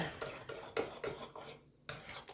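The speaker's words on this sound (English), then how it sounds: "Let's stir this up a little bit." A spoon stirs pumpkin donut batter in a bowl, a few quick scraping and knocking strokes against the bowl close up, with a short pause near the end and no talking.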